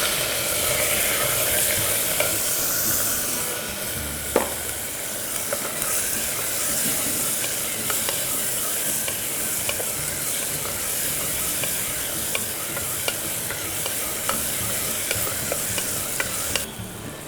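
Onions and ginger-garlic paste fry in a pan for egg biryani, a steady loud sizzle running throughout with repeated scraping stirs and occasional clinks of the spoon against the pan.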